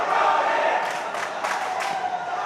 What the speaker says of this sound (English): You hear the Arizona guys in the background getting everybody hyped up,